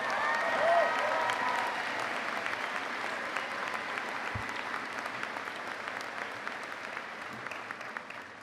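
Audience applause at a university commencement, a dense, loud wash of clapping that holds steady throughout and fades slightly toward the end.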